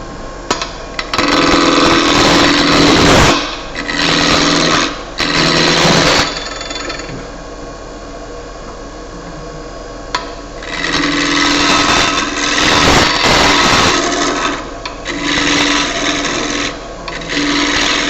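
Wood spun on a lathe for a small birdhouse ornament, a spindle or bowl gouge cutting it round: loud, close bursts of rough rasping cut noise over a steady motor whine, broken by short quieter pauses between passes.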